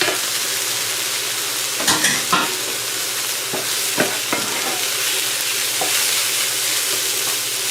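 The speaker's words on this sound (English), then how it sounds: "Going to go ahead and add the sausage back into the onions and garlic." Sausage frying in a pan with onions and garlic, a loud steady sizzle close up, punctuated by several sharp spoon scrapes and knocks as the mixture is stirred.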